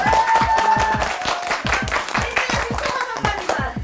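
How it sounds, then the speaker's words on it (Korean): Lively hand clapping and applause from a small group of grandmothers at a Valentine's Day chocolate cake cooking event, steady rapid claps throughout, close and loud, with voices faintly underneath. "박수!"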